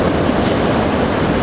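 Ocean waves breaking at the Anglet surf beach in France, a loud, steady roar of surf mixed with wind noise.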